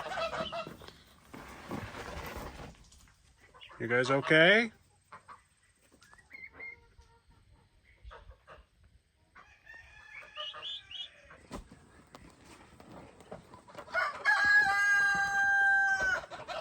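Turkeys call in bursts in a turkey run: loud gobbling and clucking near the start, scattered calls through quieter stretches, and a busy chorus at the end, with a brief spoken question.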